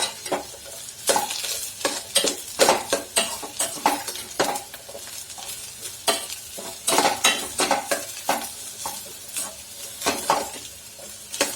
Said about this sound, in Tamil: நல்லா எண்ணெயில் போட்டு வறுத்து எடுத்துட்டிங்கன்னா உங்களுக்கு அந்த கசப்பு தன்மை வந்து போயிடும்.